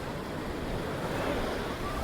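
Sea waves wash ashore at Mandvi beach in Kutch, a continuous, moderately faint surf rush mixed with wind noise across the whole stretch, with no voices.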